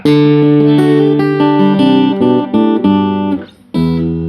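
Bright, amplified Ovation CP247 acoustic guitar through its pickup plays a run of ringing plucked notes and chords, close and loud, with a short pause near the end before another chord.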